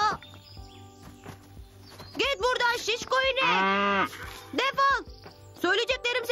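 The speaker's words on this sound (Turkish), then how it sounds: "Kayıt alırken arkadan inek mi ölüyor?" A cow moos in the background of a tape recording, long drawn-out lowing calls rising over crickets, with people talking around it.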